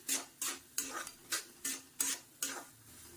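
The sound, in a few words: rava and ingredients being roasted and stirred in a pan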